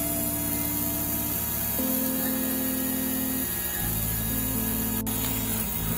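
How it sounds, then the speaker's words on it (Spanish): Small battery-powered electric motor of a robot dog spins with a steady buzzing whir, its pitch stepping between a few levels as it runs continuously. "Vemos que el motor está rotando."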